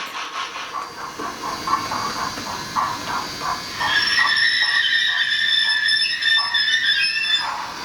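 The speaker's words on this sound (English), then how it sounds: "When you reduce the throttle, you'll hear the chuffs drop off in intensity and the rod clank." An HO-scale Rapido Royal Hudson model steam locomotive's sound system: rhythmic steam chuffs beat steadily, joined partway through by metallic rod clanking and a bright, ringing hiss, close and fairly loud.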